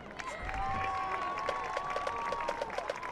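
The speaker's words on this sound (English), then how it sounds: "Please join me in a final round of applause for the Joe McLane 2026 seniors" A crowd at a high school football game claps and cheers for graduating seniors with steady, moderately loud applause, while a distant horn-like tone and scattered crowd noise drift underneath.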